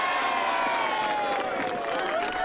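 An auction crowd in the 1979 film An American Christmas Carol breaks into applause and cheering, a dense, steady wash of clapping that holds at an even level throughout.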